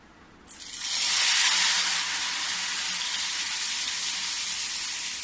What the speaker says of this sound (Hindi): देखो तेल गरम हो गई है, फिर से मैं वही तरीके से थोड़ी सा डालूंगी।